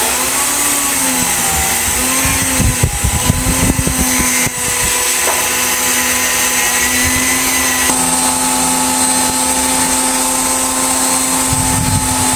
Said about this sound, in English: Use fine sandpaper or a fine Dremel bit to remove the corrosion from the connector.